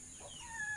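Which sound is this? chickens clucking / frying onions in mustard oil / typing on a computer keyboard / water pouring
chickens clucking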